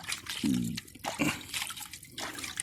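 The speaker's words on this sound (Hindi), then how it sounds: "पानी में बर्तन धोने का एक अपना ही मज़ा है, बहता पानी।" Dishes being washed by hand in warm running water outdoors, with trickling, dripping and sloshing plus light clinks of utensils, close and fairly soft.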